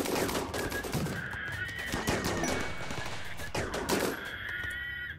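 Rapid gunfire in the RimWorld video game during a battle, a dense, continuous crackle of shots with a few sharper bursts, loud throughout with no clear speech.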